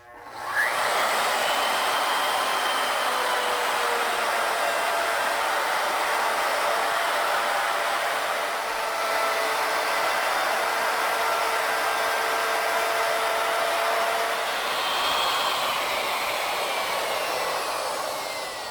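A router on a lathe cuts beads into a wooden workpiece, giving a loud, steady, high-pitched whine with rushing noise that holds evenly for nearly twenty seconds, close by and alone, with no talking.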